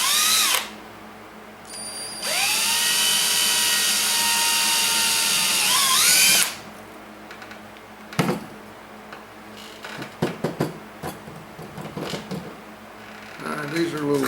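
Power drill driving small 2-inch self-tapping screws into an upper body tube, a sustained high whine for about four seconds that winds up and stops, followed by scattered clicks and handling knocks.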